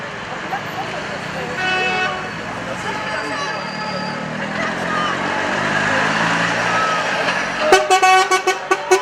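A truck rolls along a road at a yellow-vest protest in Langon, with a busy traffic roar, people talking, and a burst of horn toots near the end.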